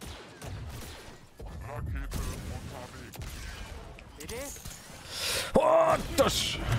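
Bursts of blaster gunfire in the video game Star Wars Jedi: Survivor crackle in quick volleys amid game effects and a man's grunts and exclamations.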